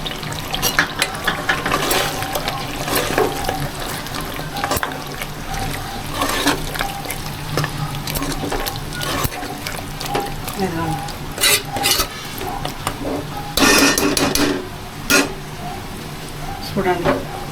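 Semi-gravy chicken curry being stirred in a pot after a bunch of chopped coriander goes in, with close scraping and clinking of a spoon against the metal over a low bubbling simmer, and a voice speaking at times.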